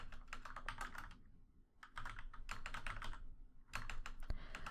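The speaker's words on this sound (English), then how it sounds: "can you hear my mechanical keyboard?" Rapid clicking of keys on a mechanical keyboard, typed in quick bursts with short pauses between them, close and fairly quiet.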